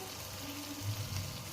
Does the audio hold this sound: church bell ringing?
no